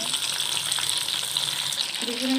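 Potatoes and pointed gourd (potol) frying together in a pan, a steady, close hissing sizzle that runs unbroken throughout with no voices.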